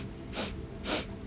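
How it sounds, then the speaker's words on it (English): Segmented Kundalini yoga breathing: two short, sharp sniffing inhales through the nose, close and clear, evenly spaced about half a second apart over a soft background hiss. "Inhale 3 sniffs, exhale 3 sniffs."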